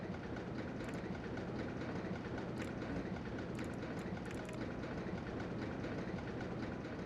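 A coaster train rolls along its track in the RollerCoaster Tycoon video game, giving a steady rumbling clatter with faint clicking, continuous and moderately quiet with no talk.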